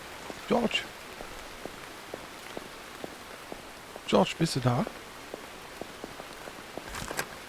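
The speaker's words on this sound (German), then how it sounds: "Und jetzt regnet es auch noch." Rain pattering on a surface in the video game Burnhouse Lane, a steady soft hiss with scattered drip ticks, while a person calls out in German twice over it.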